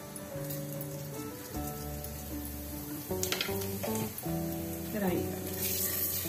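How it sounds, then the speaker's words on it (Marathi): Mustard seeds and cumin splutter in hot oil in a pan, a crackling sizzle with sharp pops under sustained musical tones, moderately loud and continuous. "यात जाईल राई आणि"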